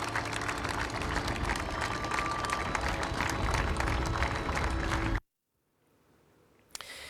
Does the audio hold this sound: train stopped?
no